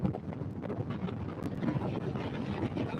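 Wind buffets past while cruising on a boat at about ten miles per hour, a steady low roar and rumble against the microphone with no talking.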